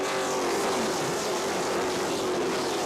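Race cars roaring past in a pack at CRA SpeedFest at Watermelon Capital Speedway, a loud, steady, dense engine drone throughout with no breaks.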